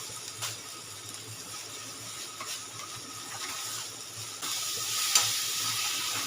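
A spice paste with ground cumin being stirred and fried in a pan, a low steady sizzle with soft stirring scrapes that grows slightly louder and hissier toward the end, no talking.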